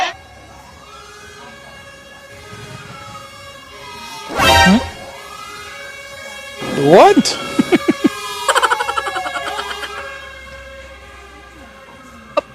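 A fire truck siren wails past, rising and falling in long sweeps under bursts of nearby talk and exclamations, with the siren tones clearer toward the middle and end.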